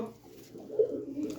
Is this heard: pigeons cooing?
yes